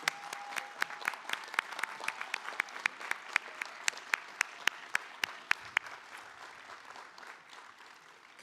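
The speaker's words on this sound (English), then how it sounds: "I think one more round of applause are due." Applause at a college commencement ceremony for Health and Human Services graduates, steady sharp clapping from a crowd lasting several seconds, moderately distant and tapering off toward the end.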